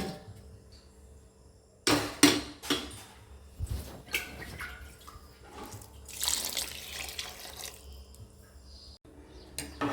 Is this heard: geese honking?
no